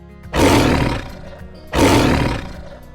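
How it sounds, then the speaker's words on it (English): A tiger roars twice, loud and close, each roar a long rough blast of about three-quarters of a second separated by a short pause, with no voices. "Tigers are big cats that can roar very loudly."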